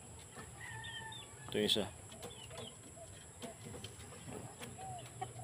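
Pullets, hatched from a McLean hatch hen and a hatch gray sire, cluck softly among other fowl, with one louder burst partway through under a man's brief speech.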